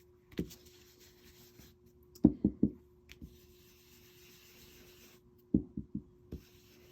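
A blending brush rubbed over a card, heard as faint soft scuffs among a few sharper taps and knocks of the brush against the surface. The sounds come in short clusters separated by near silence, with no talking.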